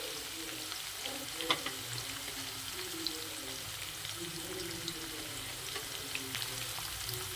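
Green chillies frying in a pan for a quick breakfast dish, a soft even sizzle with occasional faint stirring taps, fairly quiet throughout.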